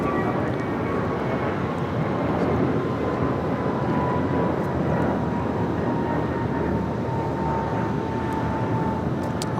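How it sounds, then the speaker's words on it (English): A Boeing 787-9 Dreamliner in Oneworld livery at Los Angeles airport gives a steady, fairly loud jet engine roar with a faint whine, continuous throughout and with no talking. "One World livery on the 787-9 Dreamliner"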